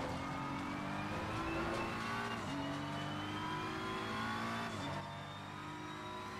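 BMW race car in the racing game Assetto Corsa Competizione, its engine droning loud and continuous, climbing through revs, with gear shifts dropping the pitch twice before it settles, no talking.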